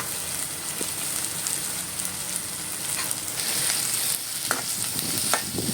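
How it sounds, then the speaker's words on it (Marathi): Onion sautéing in hot oil for Maharashtrian chicken sukka gives a steady, close sizzle. Scraping stirs from a utensil come through now and then, with no talk. "कांदा थोडासा परतून घ्यायचा तेलामध्ये"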